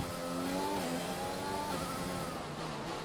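Formula 1 car engine accelerating at Monaco in F1 2020, a steady loud high-revving whine with shifting harmonics running continuously throughout, with no talking.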